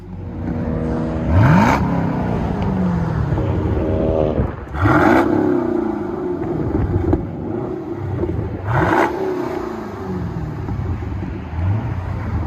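A 2012 Chevy Camaro SS convertible with a 6.2L V8 and rear muffler delete on 5-inch tips revs three times, each loud rising blip falling back to a deep burbling idle close by.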